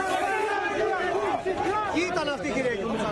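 An angry crowd shouts and clamours in a dense, continuous roar as police form a human shield and throw chemicals to force it back. Overlapping yells rise and fall close by.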